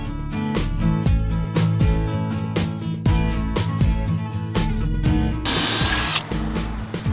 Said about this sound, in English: Do you know how scary it is to start drilling holes in your boat?